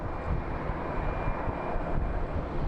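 Airplane departing Phoenix Sky Harbor International Airport, a steady broadband engine roar heard from a distance, continuous and unbroken with no voices.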